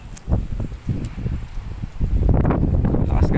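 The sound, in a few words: strong wind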